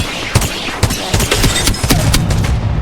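Gunfire from a 30-30 Repeater lever-action rifle in the Apex Legends video game: several sharp, loud reports spaced irregularly over a dense, noisy game soundtrack.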